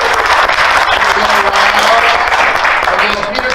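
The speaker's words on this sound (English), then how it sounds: "they'll give everybody a big applause" Loud, close crowd applause at a digital innovators summit for automotive dealers, a continuous dense clapping texture that stays strong throughout.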